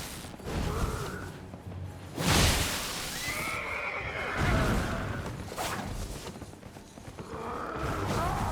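A horse in the Elden Ring video game neighs in several loud, drawn-out whinnies spread over a few seconds, with hoof clatter and rumbling game ambience between the calls.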